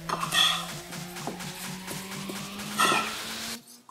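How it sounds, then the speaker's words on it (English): A spoon stirs cinnamon and sugar into an apple crumble filling in a bowl, with repeated soft scraping and light clinks against the dish, close and quiet, ending abruptly. "So we just give it a stir, incorporate our cinnamon and our sugar all together"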